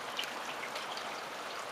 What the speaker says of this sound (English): the residual runoff is moving pretty good in the street.